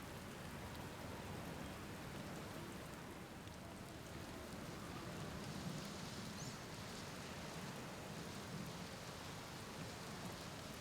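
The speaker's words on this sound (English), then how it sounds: "how's it raining inside?" Rain pours inside a building in the Outer Wilds video game, a steady, soft hiss of falling drops, even and unbroken throughout, fairly quiet and unaccompanied by talk.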